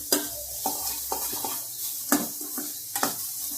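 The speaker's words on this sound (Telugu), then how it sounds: "ఒక నిమిషం ఇలా కలుపుకుంటే సరిపోతుంది" A spoon stirring karonda and coconut chutney in a pan on the stove, with close scraping strokes and soft sizzling spaced over a few seconds, no talk.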